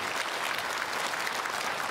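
A church congregation at a Korean Sunday worship service breaks into applause, a dense, continuous wash of many hands clapping at once, fairly loud and uniform for a couple of seconds, with no talking over it.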